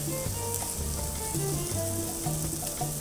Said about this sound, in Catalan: I ara la marcarem per tots els costats, perquè així quan es fiqui el forn no perdrà els sucs